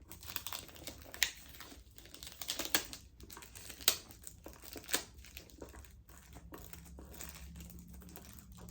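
Paper wrapping on a Bond No. 9 clone fragrance bottle crinkles and tears in quick irregular bursts, close and sharp, with brief pauses between handlings and no talking.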